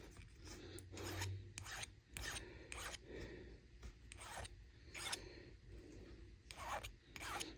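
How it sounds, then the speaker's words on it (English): Hand file rasps against a sterling silver ring bezel in repeated close strokes, about a dozen uneven scrapes with short pauses between them, quiet and alone without any talk. "hand filing is just about as quick as it is for me to get out my rotary tool"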